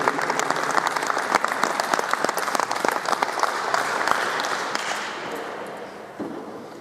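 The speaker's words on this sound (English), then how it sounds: "Well-deserved applause" Loud, sustained applause from a crowd, dense clapping that gradually tapers off toward the end.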